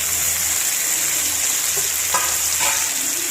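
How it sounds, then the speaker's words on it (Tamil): Shallots and tomato sauté in a pan for a village-style fish curry, with a steady, loud, close sizzle throughout and a couple of brief stirring scrapes near the end. "சின்ன வெங்காயம் நல்லா வதங்கினோன்னே எடுத்து வச்சுருக்க தக்காளியையும் அதோட சேர்த்துக்கணும்."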